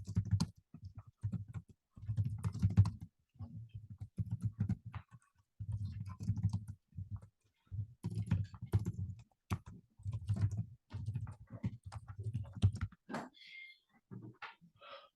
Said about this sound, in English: I'm going to type in the quiz problem